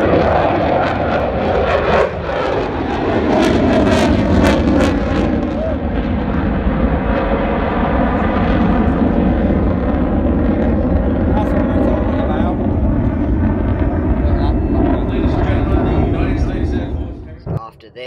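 An F-35 jet roars past at an airshow, a loud, sustained broadband engine rumble and hiss that swells and holds for most of the pass before cutting off near the end.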